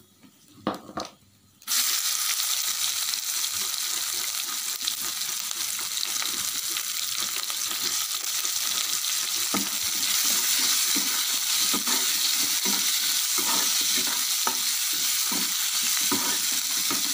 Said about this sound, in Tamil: நம்ம இப்போ வெங்காயம் ஆட் பண்ணிக்கலாம்